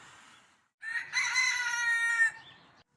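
A rooster crows nearby in a long, loud, clear call, preceded by softer clucking from backyard chickens.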